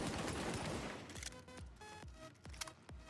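Gunfire from a full magazine in the video game The Division: a dense, rapid burst of shots that thins into a string of separate cracks, each trailing a short echo.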